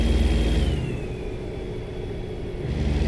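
Truck engine in American Truck Simulator, a steady loud low rumble with a droning whine, easing slightly in the middle and swelling again at the end, with no talk.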